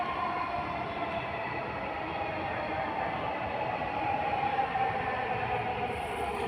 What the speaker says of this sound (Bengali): দেখেন মেট্রো রেলে আসতেছে